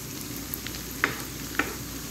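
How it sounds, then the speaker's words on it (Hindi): Garlic tadka for yellow moong and masoor dal sizzles steadily in hot oil, a soft, even frying hiss broken by a couple of small pops and the clink of stirring. "बस जैसे ही लहसुन का थोड़ा सा कलर चेंज होता है तो तड़का तैयार है।"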